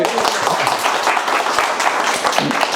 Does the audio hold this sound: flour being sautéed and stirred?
no